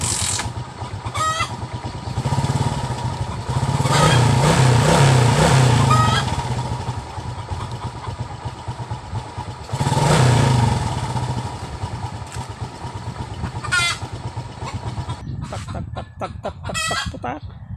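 A Honda Wave 125 motorcycle needing a clutch lining change and carburetor work idles nearby, its engine swelling louder twice, with a rooster crowing and chickens clucking around it.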